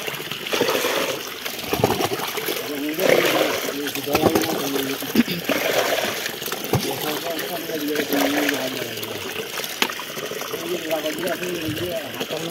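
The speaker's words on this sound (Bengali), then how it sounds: "এই যে সেলু চালিয়ে দিল, আর এখানে জল দিয়ে ভর্তি করে নিচ্ছি ড্রাম" Water from a pump gushes steadily into a drum in a village setting, a continuous splashing rush that stays loud throughout while people talk over it.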